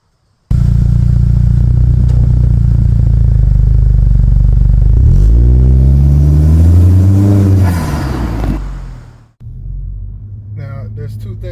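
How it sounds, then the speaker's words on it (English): A car with a MagnaFlow exhaust and PRL intake accelerating, a loud, close, deep exhaust drone that rises in pitch and volume with the turbo audible, then cuts off abruptly, followed by a quieter rumble. "You can still hear the turbo noise as the exhaust picks up in volume."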